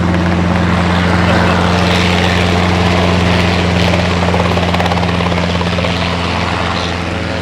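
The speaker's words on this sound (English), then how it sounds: "Did I mention there was a helicopter here?" A helicopter's steady, loud rotor thrum and engine drone, constant and close for the whole stretch, at a prescribed burn training school in Texas.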